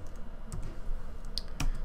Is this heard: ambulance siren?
no